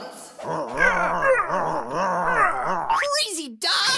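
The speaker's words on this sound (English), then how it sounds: "Crazy dog!" A cartoon dog in an animated series growls and yaps in a long, wavering run of rising and falling cries, close and loud, with boinging comic effects breaking in toward the end.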